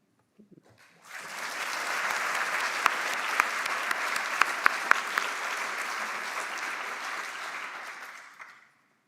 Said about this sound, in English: you're going to clap because you are polite